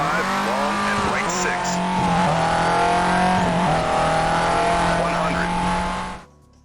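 A rally car in the racing video game Dirt screams along at high revs, with tire squeals and shifting engine pitch as it corners, loud and continuous until it cuts off abruptly near the end.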